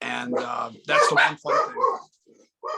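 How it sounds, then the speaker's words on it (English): A dog barks in a room during a wrestling interview, several sharp barks with a few whimpering yips, close and loud, overlapping with someone talking. "sorry about the dog."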